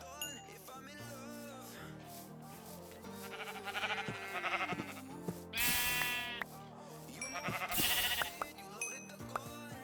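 Sheep in the GT New Horizons Minecraft video game bleat repeatedly in loud, wavering cries over background game music.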